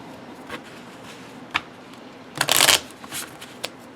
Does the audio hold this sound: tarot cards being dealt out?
yes